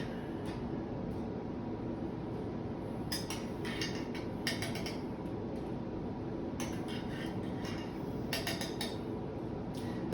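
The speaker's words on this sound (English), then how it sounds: "So I'm going to scoop all these out. And they're going to go right into our skillet." Cooked garden carrots scooped with a utensil into a skillet, giving a string of light metallic clinks and scrapes in short bursts over a steady background hiss.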